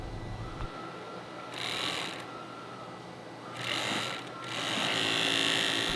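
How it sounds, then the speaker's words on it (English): An industrial sewing machine stitches across the top and bottom of face mask fabric, its fast whirring runs coming in bursts with short pauses between. "we're going to sew them across the top and across the bottom of the piece"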